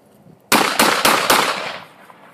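Four loud, close pistol shots fired left-handed at a target ring out in quick succession, their echoes trailing off afterward.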